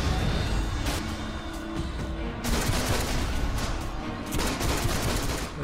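Enemy gunfire in DC Universe Online, a dense, continuous rattle of rapid shots that swells louder midway and keeps going without pause, with no talking.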